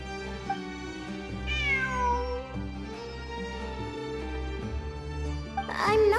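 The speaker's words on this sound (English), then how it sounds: "I'm not hearing things. It really is a cat." A cat meows in the Genshin Impact story quest Luna II, several drawn-out, rising and falling cries over steady background game music.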